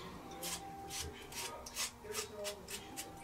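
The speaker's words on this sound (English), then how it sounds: "it's just a real scratchy sound from the blade pulling at the hairs" A Harry's razor blade scrapes through grown-out facial stubble while shaving, a quiet, close, rhythmic series of raspy scratching strokes, roughly three per second.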